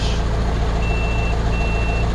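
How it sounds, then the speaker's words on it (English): Two thin, high, steady beeps from a GoPro Hero 10 camera sound faintly over a loud, constant low rumble. "It's now making a beeping noise."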